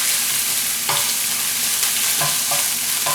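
Protein stir-frying in a hot pan for Pad See Ew, a loud constant sizzle with intermittent scraping stirs of the spatula, close up and without talk.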